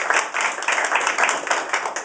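Audience applause after a speech at an event marking a $100 million housing grant, dense steady clapping from a crowd throughout, fairly loud and close with no voices over it.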